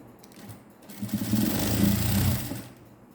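A sewing machine stitches a net blouse in one short run, its motor whirring up and holding for about a second and a half before winding down, with faint room noise before and after.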